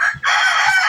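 A gamefowl rooster in a cage lets out a short, loud, close crow, the call breaking briefly before carrying on strongly to the end.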